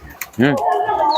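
A Madras pigeon gives a short rising-and-falling coo, close and clear, after a faint click, with a low murmur of talk.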